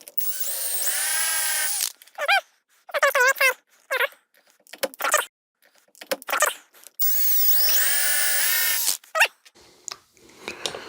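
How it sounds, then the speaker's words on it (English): A power drill bores new holes in an interior door, whirring in several bursts of rising and falling pitch, two of them long and sustained, with short pauses and handling noise between. "Now we're going to drill out the new holes."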